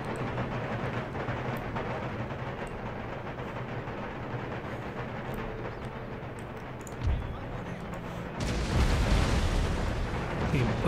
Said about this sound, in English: I get blasted by canister shot.